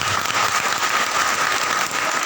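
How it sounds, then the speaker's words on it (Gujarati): An audience at a Gujarati gathering applauds to welcome a speaker, dense steady clapping sustained evenly and loudly from start to finish without a break. "ફરીથી એમના માટે તાળીઓથી સ્વાગત કરીએ."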